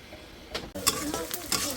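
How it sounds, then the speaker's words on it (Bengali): Ginger garlic paste hits hot oil in a frying pan for fish and sizzles up close in sharp bursts, with stirring scrapes in between. "আদা রসুন বাটা দিয়ে দিলাম"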